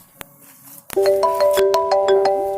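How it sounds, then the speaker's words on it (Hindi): Mobile phone ringtone for an incoming call, starting after a soft tap and then playing a loud, clear repeating melodic tone pattern with a steady rhythm, close and alone. "कन्हैया की तरफ से का फोन आ रही"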